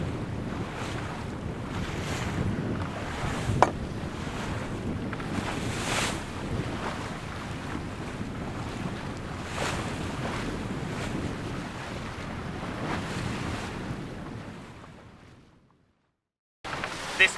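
A sailboat tracks steadily through a lumpy sea, with the continuous wash and slap of waves against the hull and gusting wind buffeting the microphone before the sound briefly cuts out near the end.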